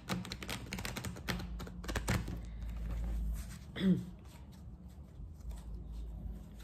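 A tarot card deck is shuffled and cut, giving crisp, rapid riffling and flicking bursts through the first few seconds before settling into quieter handling, with faint background noise.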